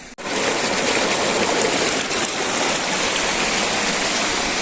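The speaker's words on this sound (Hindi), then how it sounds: "आवाज़ आ रही है थोड़ी थोड़ी जो है ना झील की" Steady, loud rush of flowing water near Khandowa Lake in Kallar Kahar, Punjab, continuous and broadband like a stream or small waterfall close by, with no voices.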